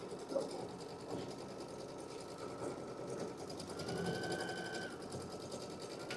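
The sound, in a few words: quilting machine stitching a design on a panel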